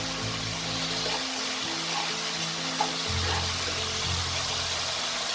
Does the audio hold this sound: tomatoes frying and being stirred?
yes